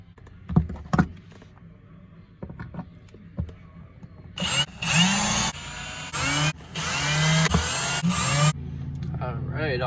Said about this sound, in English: I just took this drill, I went right through a spot weld